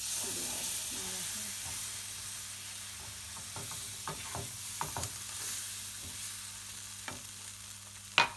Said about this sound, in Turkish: Böyle bir su bardağı suyumu da döküyorum.